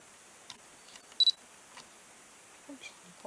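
A DSLR camera shutter fires once, giving a quick, crisp double click that stands alone against a quiet room, with a few faint small clicks and handling taps around it.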